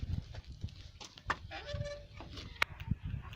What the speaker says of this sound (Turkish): Ev oğlum onlar tavuk oğlum bak gördün mü? Tavuklar çıktı.